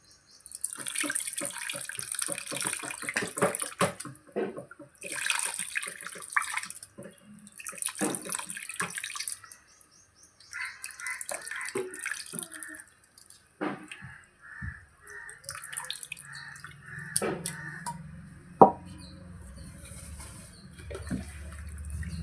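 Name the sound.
tamarind juice being poured into fish curry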